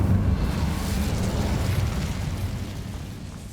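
The Incendio fire spell is cast in Hogwarts Legacy, a loud rushing roar of flames with a heavy low rumble that holds steady and fades slightly over a few seconds.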